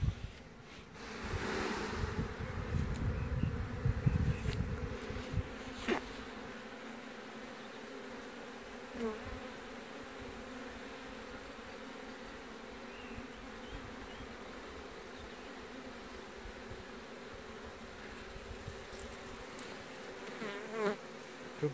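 Honey bees swarm around a four-frame colony support hive, making a continuous buzzing drone. It is fuller for the first few seconds, then settles into a steady, softer hum with a few faint knocks.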